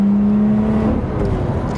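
A Lotus Evora engine breathing through a valved tubular exhaust gives a loud, close, steady drone that shifts and fades about halfway through, with no talking.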